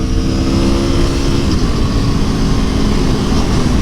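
A 2017 Aprilia Tuono V4 1100 Factory motorcycle engine revving high while riding, a loud continuous roar with steady wind noise throughout.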